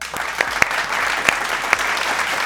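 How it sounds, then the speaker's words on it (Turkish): A small group of children claps together for a couple of seconds after a home exercise session, steady light applause with a few sharper individual claps standing out. "Haydi kocaman kendimizi bir alkışlayalım."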